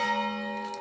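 A single sustained, ringing bell tone with rich overtones, fairly faint and distant, like a church bell.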